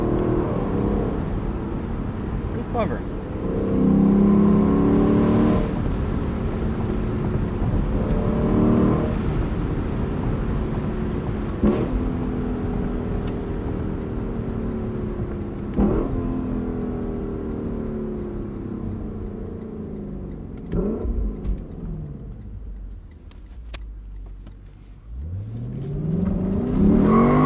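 A 2021 Lexus LC 500 Convertible engine revs up through repeated rising sweeps at part throttle, each easing off smoothly as gears change, heard from inside; a voice speaks briefly.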